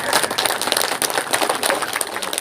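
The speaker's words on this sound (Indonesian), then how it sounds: "Tepuk tangan dulu ya." Loud, dense applause from an audience at a community meeting led by a city council member in Palembang, many hands clapping in a fast steady patter that stays close and constant.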